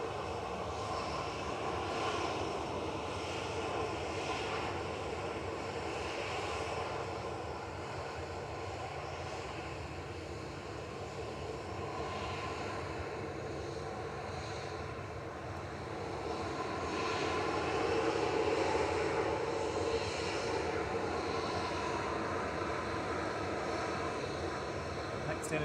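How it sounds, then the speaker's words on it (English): A Ryanair jet bound for Milan takes off at Manchester Airport, its engines producing a broad, steady roar that swells toward the end, heard at a distance with no speech over it. "Lined up and ready to go now is Ryanair to Milan EKP"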